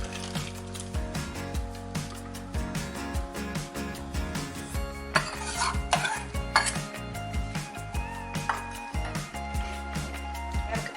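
Ground paste being stirred into a spinach curry in a pot, with a spoon scraping and clinking against the metal in irregular bursts, close and fairly loud, without talk.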